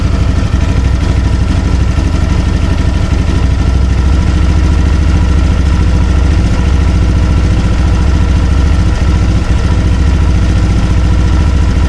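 A Honda Click 150 scooter engine, freshly top-overhauled, idles steadily and smoothly on its own, a loud, even low rumble with no revving throughout.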